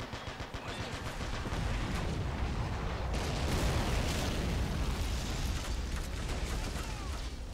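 Battle in Men of War: Assault Squad 2 during a Stalingrad defence, with continuous overlapping gunfire and booming explosions forming a dense, moderately distant wall of combat noise with no talking.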